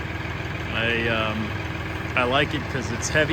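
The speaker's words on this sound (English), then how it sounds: "So love this little tractor." A Massey Ferguson 2605H tractor, a three-cylinder turbocharged diesel, idles with a steady low rumble under someone talking close by.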